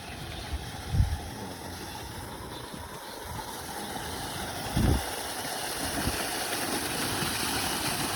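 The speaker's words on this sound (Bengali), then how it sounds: "সেচ পাম্প দিয়ে গেট সেচতেছে" An irrigation pump engine drones steadily near shrimp ponds and rice paddies, a low continuous mechanical rumble with a couple of heavier thumps along the way.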